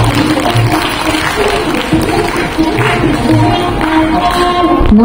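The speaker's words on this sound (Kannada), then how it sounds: "ಜೋರಾದ ಚಪ್ಪಾಳೆ ಬರೆಸಿದೆ" An audience at a Kannada program attended by a transport minister claps and cheers loudly and steadily, a close, dense wash of applause with voices mixed in.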